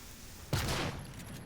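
A short burst of gunfire in Prey Mooncrash, aimed at a tentacle nest, rings out once and fades after about half a second.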